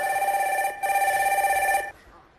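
A telephone rings on stage in a comedy sketch, a loud steady electronic trill in two bursts with a brief gap, then cut off.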